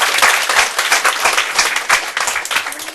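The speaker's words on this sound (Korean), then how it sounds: "박수 한번 치세요" An audience at a New Year lecture claps in a burst, with individual claps distinct and loud throughout the short stretch.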